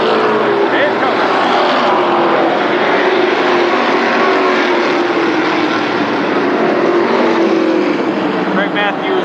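Mini Indy race cars roar around Berlin Raceway in a continuous, loud engine drone that slowly shifts in pitch as the field passes, with a track announcer talking over it.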